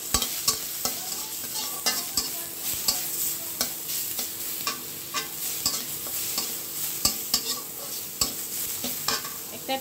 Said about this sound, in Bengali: এটা একটু নেড়ে নেব।